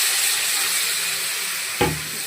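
Water poured into a hot pan of fish curry base with arratangra fish, a steady bright sizzling hiss throughout, broken by a sharper burst of spitting near the end.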